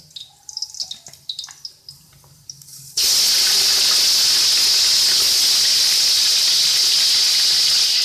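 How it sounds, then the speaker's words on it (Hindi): Meat is dropped into browned onions in a pot for Afghani pulao and bursts into a loud, steady sizzle. Quieter kitchen clatter comes first, then the close frying hiss runs without a break. "इस प्याज में जो सुरख हो चुका है इसमें गोश्त डालेंगे और फ्राई करेंगे"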